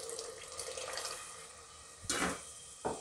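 A glass of water pours into soaked masoor dal in a pot, a soft close trickle early on followed by two brief louder splashing gushes near the end.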